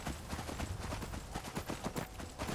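Horse hooves galloping in Skyrim, a fast, steady drumming of hoofbeats under a constant background wash, moderately quiet and without talk.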